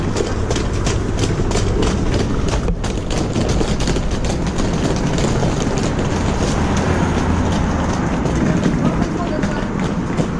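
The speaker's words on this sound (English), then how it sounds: "get on our luxurious transport, courtesy of South Western Railway" A South Western Railway train rumbles steadily along the rails with a continuous loud roar and rhythmic rattling, while voices chatter close by.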